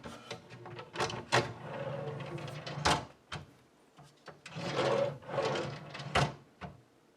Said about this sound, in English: Check the fit by inserting the tray into the slides.